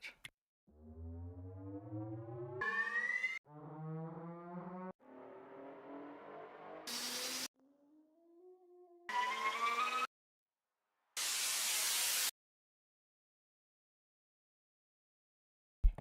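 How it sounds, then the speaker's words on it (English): White noise riser effects in a Bollytech remix session: short bursts of hissing noise alternate with synth tones and stop abruptly. "I need at this point of time a very typical noise, white noise, pink noise, whatever"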